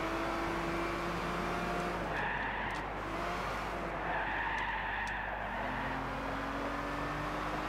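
An Aston Martin Vantage race car in Gran Turismo 6 on a tricky section, its engine droning steadily with tires squealing and skidding through corners, loud and continuous with shifting pitch.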